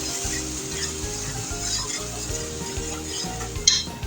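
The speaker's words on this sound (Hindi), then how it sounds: "इस मसाले को मैं थोड़ा सा फ्राई करूँगी" Nihari masala frying in a pot ahead of adding bone-in camel meat, a steady close sizzle with repeated scraping stirs and one sharp utensil clink near the end.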